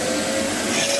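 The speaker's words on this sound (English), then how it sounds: "It's a Hoover." A Hoover vacuum cleaner runs steadily and loudly, a continuous close whine with a steady tonal hum and no voices.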